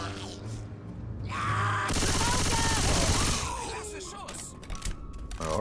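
Rapid automatic fire from an Uzi submachine gun in the video game Left 4 Dead 2 rattles loudly in a sustained burst, mixed with game effects, while players talk over the action.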